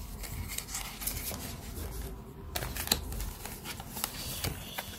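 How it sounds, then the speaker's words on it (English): Tarot cards shuffled in the hands, a continuous close riffling and rubbing patter with small slaps, moderately loud and without talk. "Sorry for the loud shuffling."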